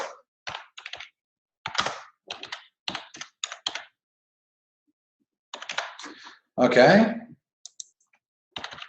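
Bursts of computer keyboard typing come in short clicky runs separated by pauses, close and clear, with a brief spoken word and a louder thump partway through.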